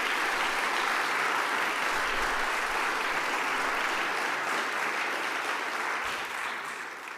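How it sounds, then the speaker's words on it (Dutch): An audience at a regional candidates' debate in Hallum applauds steadily, a thick, even wash of clapping that holds for several seconds before tapering slightly at the end. "Dus een applaus voor deze kandidaten."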